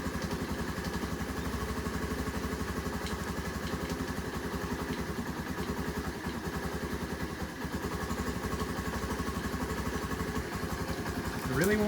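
A Honda Navi motorcycle running on a cold start, with the choke on. Its small engine putters in a steady rapid rhythm close by for the whole stretch, with a slight rev rising right at the end.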